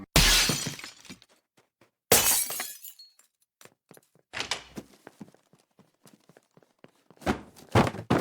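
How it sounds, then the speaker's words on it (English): Window glass shatters loudly several times in separate bursts, each crash followed by tinkling fragments and quieter thuds in between. "the pair break into a house by shattering a window"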